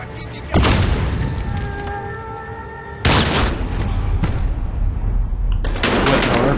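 Two heavy, sudden booms of a grenade blast in Call of Duty: Modern Warfare, each followed by a sustained rumbling roar, with a third burst near the end and game noise between.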